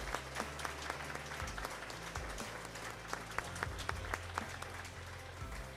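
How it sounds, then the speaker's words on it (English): Audience applause at a business school graduation ceremony, a steady wash of clapping from a large crowd, moderately distant, over a low droning hum. "A big round of applause."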